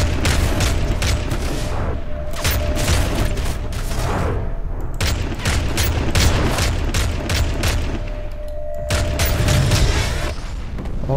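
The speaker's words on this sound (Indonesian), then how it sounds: "mereka pakai shotgun dong" Shotgun fire from enemies in the video game Call of Duty Modern Warfare 3: loud, dense volleys of sharp blasts repeat throughout, overlapping into a near-continuous barrage with a steady low rumble underneath and no talking.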